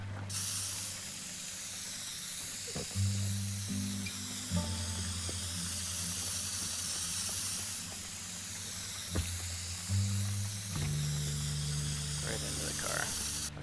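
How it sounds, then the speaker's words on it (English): A spray can hisses steadily in the Teardown video game, a continuous bright airy stream with short mechanical clicks and shifting low game tones beneath. "Okay, so let's just spray can this then."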